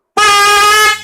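An ATIF horn blasts during a sound test, a single loud, harsh, buzzing tone that starts abruptly and holds steady for nearly a second before cutting off.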